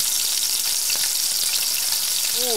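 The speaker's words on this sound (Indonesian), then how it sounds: "habis ini kita bakalan lanjut goreng" Hundreds of catfish fry together in one huge wok of hot oil, making a loud, continuous crackling sizzle close by that never lets up, with no talk heard.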